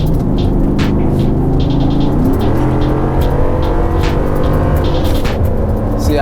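A lifted Ford F150 pickup with a 5.0 V8 on an E85 performance tune accelerates hard nearby, its engine note climbing loudly through the gears with a rough, rising roar.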